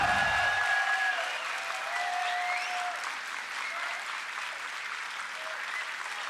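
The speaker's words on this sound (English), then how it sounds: "I really respect the energy of the crowd, no matter who they're cheering for" An arena crowd at the 2015 League of Legends World Championship applauds and cheers in a steady wash of clapping, with a few brief whistles and a short low thump at the start.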